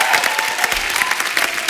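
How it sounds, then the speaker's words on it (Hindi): A studio audience breaks into loud, dense applause on a Hindi comedy talk show, sustained clapping filling the room close up. "जोरदार तालियां हो जाएं"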